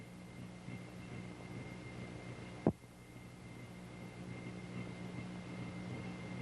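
A helicopter throttles up and hovers out for takeoff, its engine and rotor making a steady, fairly faint droning hum with a single sharp click partway through.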